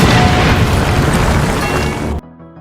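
An RPG rocket strikes a church and explodes in a loud, sustained boom with crashing debris from the collapsing wall, then cuts abruptly to a faint, quiet tail.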